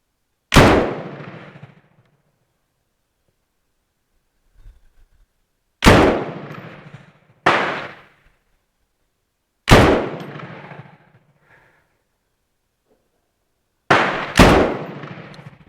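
Five loud, sharp shots from a Bren MK2 machine gun fired outdoors as single rounds at irregular spacing, each crack trailing a short echo, with silence between.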